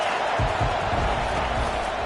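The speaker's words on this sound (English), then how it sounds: "They are pinned deep, and this crowd is letting them have it" A stadium crowd jeers in an NCAA/Madden football video game, producing a steady, loud wall of crowd roar with a few low thumps underneath.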